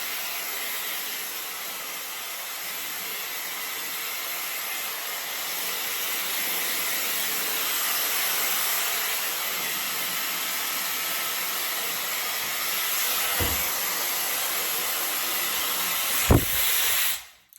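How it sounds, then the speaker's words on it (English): A Shark hair dryer blows steadily on curly hair, giving a continuous loud airy roar with a brief bump and click near the end before it cuts off. "I do not do a full blow dry because I don't want to use any more heat than I have to"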